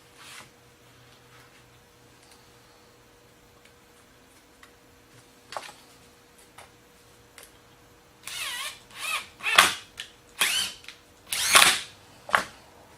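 A power drill drives drywall screws into O scale flex track in several short, sharp bursts near the end, preceded by quieter scattered ticks and handling noises.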